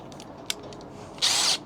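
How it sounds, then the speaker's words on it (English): A DeWalt power driver whirs in one short, loud burst of about a third of a second near the end, after a few faint clicks and taps, with no talking. "I pull out my DeWalt"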